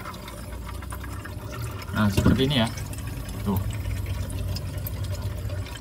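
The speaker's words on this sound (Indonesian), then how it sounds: "Waduh, ini setelah kita matikan, ini suara gemericik air." Water gurgling inside the evaporator of a Sharp single-door refrigerator just after it is switched off, a wet bubbling burst in the middle over a steady hum, with someone talking briefly over it.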